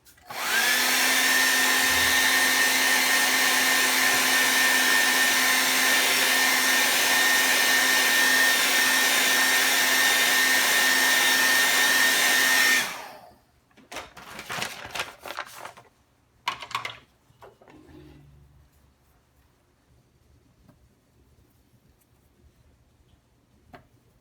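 A hair dryer blows loudly and steadily for about thirteen seconds to dry a painted ridge layer of a landscape painting, then switches off, leaving scattered light taps and handling clicks in a quiet room.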